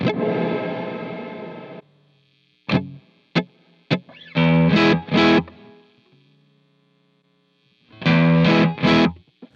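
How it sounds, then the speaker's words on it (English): Electric guitar through an Atomic Amplifire with a room reverb, playing a sustained distorted chord and then short choppy stabs and bursts, each with a brief roomy tail fading into silence between them. "I've got another reverb that is just kind of a room reverb"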